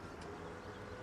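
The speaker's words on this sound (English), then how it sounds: "There's the train in action just there." A freight log train pulls away on the Hagenstedt map in Farming Simulator 17, giving a quiet, steady, even rumble that runs through the whole short moment with no break.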